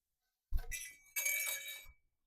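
A small metal circlip clinks against hard parts during assembly of WP AER48 air forks with titanium tubes, giving two short, bright ringing rattles close up in a quiet room.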